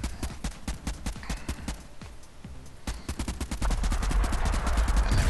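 A vehicle blows up in the video game Convoy amid rapid crackling gunfire-like bursts, then a dense, rising rumble of explosion debris fills the final seconds, loud and close.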